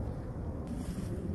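Low, rumbling winter wind in Germany buffets the microphone in a steady roar, loud and close, with no voices.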